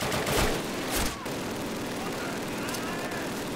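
A heavy machine gun (MG) fires during a Call of Duty campaign battle, sounding as two loud rapid bursts in the opening second before the scene drops to a steady rumble of distant combat.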